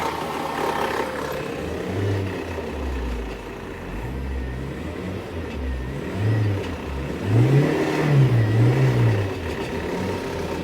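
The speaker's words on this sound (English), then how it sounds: "I'm floating the gears trying to see if it's gonna go in gear" A 1946 Chevrolet truck's engine revs up and down as gears are floated and shifted, a steady close-up mechanical drone with rising and falling pitch swells, no talking.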